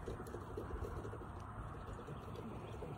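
Racing pigeons cooing softly near a cornfield at a Texas loft's release spot, faint and distant under steady open-air background noise.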